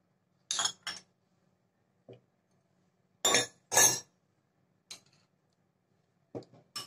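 A spoon stirring milk sharbat in a glass makes short, separate clinks against the side. They come in small pairs with silence between, bright and close.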